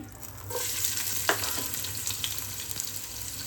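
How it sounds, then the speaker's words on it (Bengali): Chopped onions fry in ghee in a pan, a steady close sizzle with occasional scrapes and taps from stirring. "পেঁয়াজ পেঁয়াজটা আমি বেরেস্তার মতো একটু ভেজে নিব"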